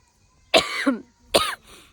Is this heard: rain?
no